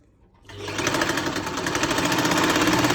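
A sewing machine running a top stitch along a salwar seam: after half a second of near silence it starts up into a loud, steady, rapid mechanical whirr that holds to the end.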